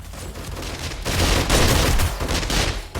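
Rocket blasts and rapid gunfire aimed at enemies in the survival game 7 Days to Die, a loud, continuous barrage of overlapping shots and explosions with no talking.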